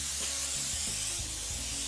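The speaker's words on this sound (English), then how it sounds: "We're just gonna use some cooking spray." Cooking spray hisses from a can onto a sheet pan in a home kitchen, a steady close bright aerosol spray in short overlapping bursts with no talking.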